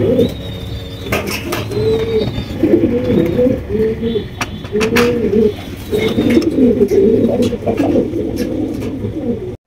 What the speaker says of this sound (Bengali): দর্শক, এখানে রয়েছে একজোড়া রাসগোল্লা কবুতর।